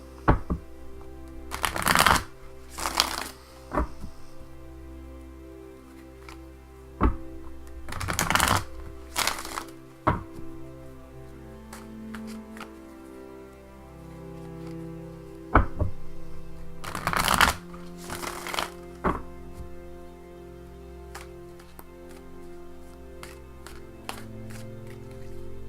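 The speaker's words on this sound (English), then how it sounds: "shuffle the cards" Several bursts of tarot cards being riffle-shuffled, close and crisp, separated by quieter pauses with soft handling sounds; no talking.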